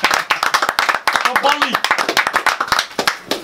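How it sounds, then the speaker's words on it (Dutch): Applause from a small audience at an annual local TV association meeting, sharp hand claps in a steady rapid rhythm across the whole stretch, with a voice calling out and talking over the clapping. "Applaus!"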